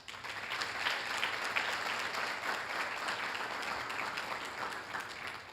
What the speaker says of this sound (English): please, a round of applause for Director Matt Ramos